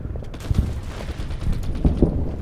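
Troops firing in the wartime strategy game Order of Battle: Pacific during fighting on Okinawa: a continuous rattle of small-arms fire and distant thumps, with a few heavier booms standing out along the way.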